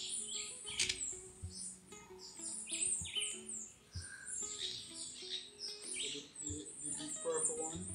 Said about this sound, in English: Mango hummingbird. The green one.